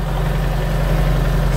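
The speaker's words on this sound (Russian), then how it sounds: "Трактор с трудом что-то завелся." A tractor engine idles in freezing weather around minus 11 to minus 15 degrees after a hard start, a steady low throbbing rumble with a constant hum, close and continuous with no talking.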